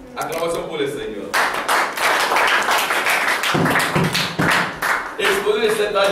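A church congregation applauds and claps loudly and densely at close range, with voices calling out over the clapping.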